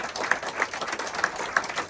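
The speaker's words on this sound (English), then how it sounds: "Ladies and gentlemen, a big round of applause again for Mr." An award ceremony audience applauds Joe Defino, recipient of the IPWHF Medal of Mettle, with moderate, fairly even clapping and a few sharper individual claps standing out at regular intervals.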